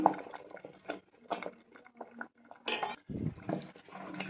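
A spoon stirring coconut milk payasam with jaggery in a metal pot on a low flame, with close clinks and scrapes against the pot and faint liquid movement.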